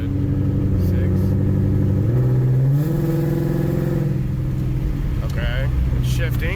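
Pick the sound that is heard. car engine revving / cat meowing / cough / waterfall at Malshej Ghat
car engine revving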